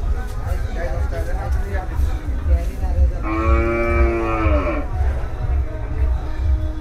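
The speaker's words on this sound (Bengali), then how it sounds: "এটা তো বড় গরু" A big native bull moos at the crowded Gabtoli cattle market, one long, loud, drawn-out call in the middle, surrounded by steady crowd murmur and voices.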